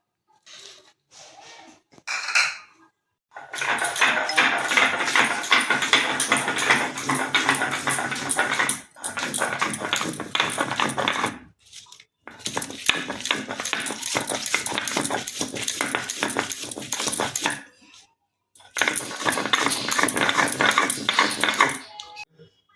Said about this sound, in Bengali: এগুলো আমি শিলনোড়ায় বেটে নেব